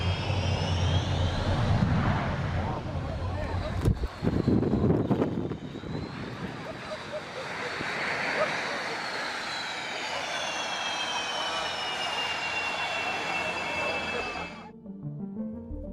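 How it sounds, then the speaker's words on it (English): Su-27 jet aircraft roaring loudly, a broad engine rush with rising whining tones that swells and fades before cutting off near the end. "The jet performance of the Su-27 is absolutely thrilling."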